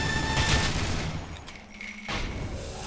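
Bursts of rapid gunfire and booming shots from the shooter video game Loadout, loud and crowded, coming in overlapping volleys with no talk over them.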